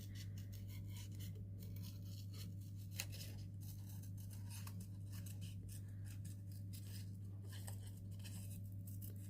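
Scissors fussy-cut around a printed paper image for a handmade birthday card, giving quiet, rapid repeated snips and rustles over a steady low hum, close and faint, with no speech.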